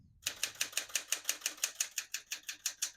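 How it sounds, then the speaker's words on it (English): A 1975 Smith-Corona Galaxie Twelve portable typewriter typing steadily, with a quick, even run of about sixteen crisp key strikes close up and no voices. "As you can see, all the keys type nice and none of them skip or stick."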